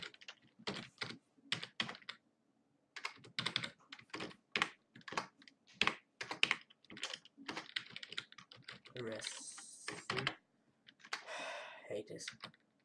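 Rapid bursts of clicking keystrokes on a computer keyboard while writing Minecraft mod code, close and crisp, in uneven runs with short pauses.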